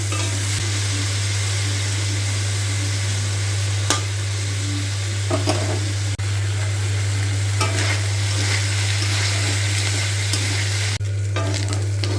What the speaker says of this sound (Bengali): এবার কড়াতে তেল দিয়ে দেওয়া হয়েছে এবার মাছটা ভেজে নেবো